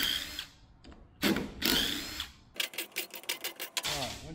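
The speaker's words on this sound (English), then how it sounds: "Pull all of these cover bolts off." Power tool with a 12 mm socket spinning out the differential cover bolts on a Can-Am SmartLok differential, heard as bursts of whirring and rapid ratcheting clatter between stretches of speech.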